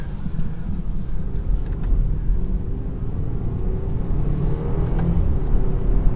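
2018 BMW X3 30i SUV accelerating in manual mode, a steady low engine drone and road rumble building gently over several seconds with some wind noise, no talking.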